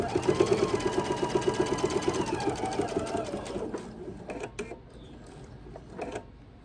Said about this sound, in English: I'm going to sew right down to that line and stop on that line.